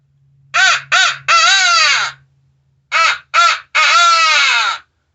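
A Quaker Boy Cracking Crow locator call for turkey hunting imitates a crow in two loud, close bursts of three harsh caws each, with a short pause between the sets and no talking.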